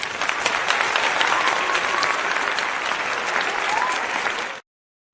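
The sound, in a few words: applause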